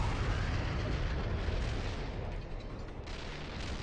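Heavy artillery barrage in a war video game, a dense continuous roar of overlapping blasts and rumbling booms that fills the whole stretch with no pauses, loud and close.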